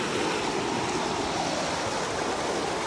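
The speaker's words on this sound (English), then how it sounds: "You got the rapids." River rapids at Hillsborough River State Park, a constant loud rush of churning water, broadband and steady with no pauses.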